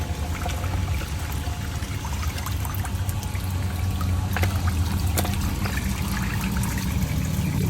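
Water from an Airstream Interstate's black and gray holding tanks pumps out through a hose, a steady close gurgling flow with small splashes and trickles and no talk.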